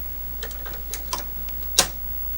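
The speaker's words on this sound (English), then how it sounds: "So I'll just fit the tape into the drive." A tape cartridge fitted into the drive of an HP85B computer: a few light plastic clicks and taps, ending in one sharper, louder clack as it seats, close and quiet.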